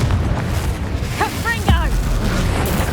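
Confringo explosive spell blast from Hogwarts Legacy, a single booming burst rising out of dense, continuous game effects and combat noise.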